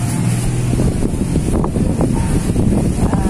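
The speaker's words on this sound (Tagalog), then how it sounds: "Mahangin po dito sa amin." Wind gusts across a vegetable garden planted with radishes and onions, buffeting the microphone with a continuous loud low rumble and roar that never lets up, with no voices.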